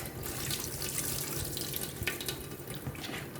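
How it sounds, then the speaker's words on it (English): Tap water running over raw beef shank in a sink, a continuous splashing hiss that stays steady and close, with small spatters as the meat is rinsed. "So I'm rinsing it off."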